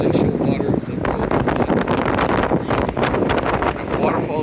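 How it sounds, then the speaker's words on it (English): Strong gusty wind buffeting the microphone at Briksdal Glacier in Norway, loud and continuous roaring rumble with bursts throughout; someone speaks over it. "It's a little windy"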